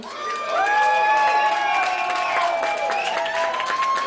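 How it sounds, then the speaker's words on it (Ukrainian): Audience at a beauty contest cheering and clapping, with high excited shouts and whistles over a steady wash of applause, loud and continuous throughout. "мусить бути дуже серйозні оплески"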